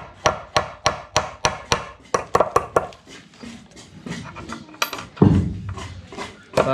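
A hammer drives nails into new wooden stairs. About ten sharp, evenly spaced strikes ring out close by, then give way to quieter scraping and knocking, with one heavier thud near the end.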